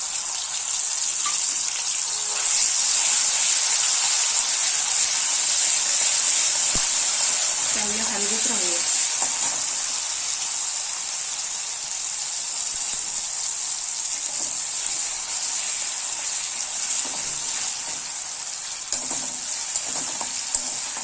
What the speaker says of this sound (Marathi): आपण आप हिरव्या मिरच्या आणि लसूण जिरं हे वाटण घालून घेऊया चांगले परतून घेऊया